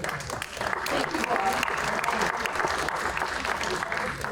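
Steady applause from an audience at an awards ceremony fills the clip, dense clapping holding at a constant level with crowd noise and some talking mixed in.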